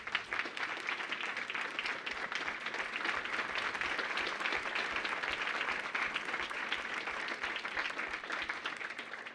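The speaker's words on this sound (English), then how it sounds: "if we could give them a warm round of applause" A full audience at a finals event gives a warm, sustained round of applause for two founders, dense, even clapping filling the room for about nine seconds without letting up.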